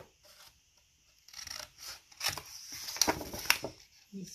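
Small paper pieces cut with scissors for a scrapbook recipe album page, giving a few faint, quiet snips and rustles after a near-silent start.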